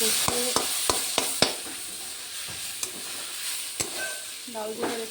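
Lentils are stirred into hot spiced oil in a pan, giving a steady close sizzle broken by a series of sharp spoon-on-pan scrapes and knocks at an irregular rhythm.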